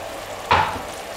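A single quick stir of a tartiflette mixture seasoned with pepper and dry white wine, a short wet swish close up against a quiet background.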